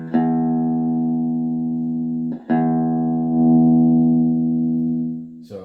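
Electric guitar through the drive channel of a Fender Frontman 20G combo amp, two long sustained overdriven chords ringing out loud and close, the second held before a final pick attack, no talking.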